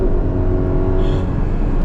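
A Ferrari engine holds a steady, loud, high-rpm drone while driving, a smooth continuous roar with strong harmonic tone and no pauses.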